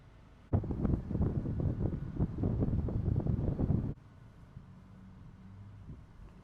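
Gusty hot wind buffeting outdoors in Highlands County, Florida, a loud close roar of wind noise for about three seconds before dropping to a quieter steady rush.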